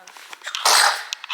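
A single sneeze bursts out loud and close at the midpoint, a brief sharp burst of breathy noise standing out against quiet indoor room tone with small faint background clicks around it.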